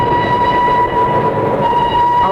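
A steam-era train effect from an old-time radio mystery drama: a steady rumbling roll of rail cars with a sustained horn-like whistle tone held throughout, loud and continuous, with no voices over it.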